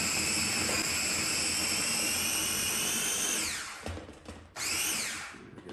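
Dried cucumber pet treats ground down in a high-pitched whining grinder, loud and close, running steadily, briefly winding down and dropping off, then spinning back up.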